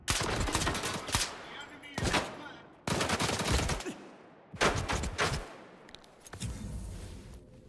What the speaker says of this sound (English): They're fucking shooting me through the stairs that I can't see through.